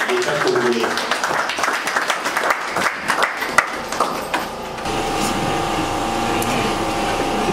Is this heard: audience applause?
yes